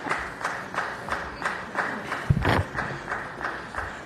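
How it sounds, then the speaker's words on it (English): Applause in a city council chamber, rhythmic group clapping in regular beats with a louder thump near the middle, moderately faint and somewhat distant. "As you could hear, applause has already started"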